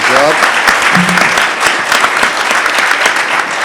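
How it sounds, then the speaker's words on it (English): Audience applause at a smart manufacturing panel discussion for the speakers and panelists, a dense, steady wash of clapping sustained throughout with a brief voice audible near the start. "Please give a good round of applause to our speakers and panelists."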